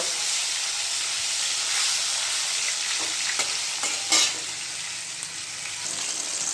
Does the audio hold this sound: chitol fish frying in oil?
yes